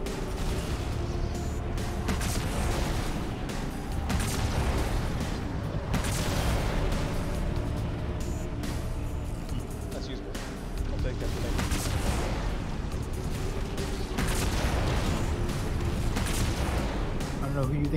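Rapid, continuous gunfire and heavy booms fill a chaotic firefight in the video game Hyper-Lethal, a dense loud barrage with layered explosions and a player's voice talking over it.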